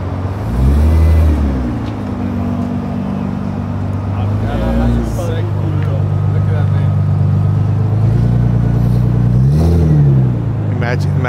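A modified JDM car revs at Daikoku PA in Tokyo, its engine note rising and falling in loud, close surges before it pulls away with a sustained drone.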